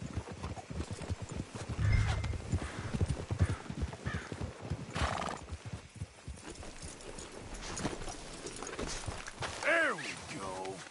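In Red Dead Redemption, horse hooves clip-clop steadily at a walking pace, mixed with voices talking and a horse whinnying near the end.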